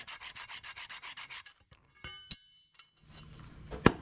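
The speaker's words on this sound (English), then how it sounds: "just going to take and scrape all this clean." Rust being scraped off a truck leaf spring on a Chevy Silverado or GMC Sierra 1500 during a spring replacement: a quick run of about ten even rasping strokes, then scattered metallic clinks and knocks with brief pauses.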